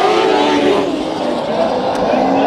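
Race cars at Bakersfield Speedway roar together on the green flag of a heat race, a loud, dense and continuous engine drone with no break in intensity.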